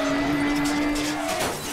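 A car in a driving simulator video game roars along with a sustained whining engine tone and a brief tire skid toward the end, fairly loud and steady.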